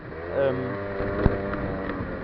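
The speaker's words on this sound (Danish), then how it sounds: "jeg har fået lavet lidt på knallerten, som I måske kan høre" Modified moped engine idling and revving with a rough, loud buzzing drone, close to the microphone with wind buffeting and a sharp knock partway through; someone speaks over it.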